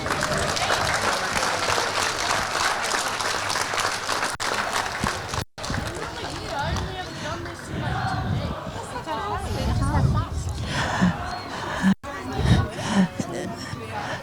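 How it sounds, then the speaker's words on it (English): A crowd applauds and cheers outdoors on a boardwalk as law enforcement torch relay runners arrive at a Polar Plunge and Torch Run event. The clapping is steady and sustained, with a broadcaster's voice and crowd chatter over it. "Let's hear a public round of applause."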